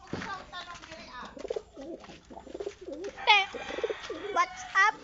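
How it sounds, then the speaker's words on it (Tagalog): Pigeons cooing nearby in repeated soft, throaty calls, with people talking over and between them. "ano kalapati, Drag?"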